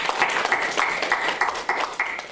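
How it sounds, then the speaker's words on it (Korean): A church congregation at a Korean Sunday service applauds, a short, fairly faint patter of clapping with an irregular rhythm and a hint of voices beneath. "이들을 위해서 우리 큰 박수 한번 보내드리겠습니다."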